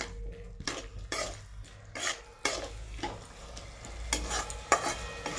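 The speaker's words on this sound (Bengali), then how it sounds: "ভালো করে নেড়ে ছেড়ে নিয়ে একটু চাপা দিয়ে দিয়ে করতে দেবো" Cubed potatoes are stirred in spice paste in a pan for a fenugreek leaf curry, with a soft sizzle under repeated scraping strokes of a metal spoon against the pan, coming in irregular bursts.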